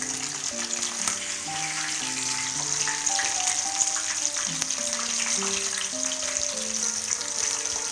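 Marinated quail frying in a pan, village style, gives a steady sizzle and crackle under a melodic musical backing.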